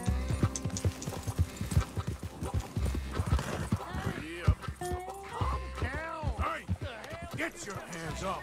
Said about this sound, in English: Come here, you silly horse.